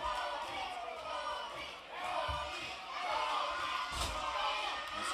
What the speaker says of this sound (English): This crowd trying to will Tony Gunn back on in this hour 1 main event